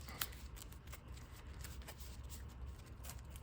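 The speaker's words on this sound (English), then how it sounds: "You guys see we shuffling the cards right now." Digimon trading cards are shuffled over and over, giving quiet, quick rhythmic riffling and snapping that repeats steadily.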